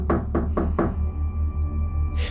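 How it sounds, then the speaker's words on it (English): Four heavy, evenly spaced knocks bang on a wooden door, close and loud, then give way to a low droning hum with no talk. "the banging started again"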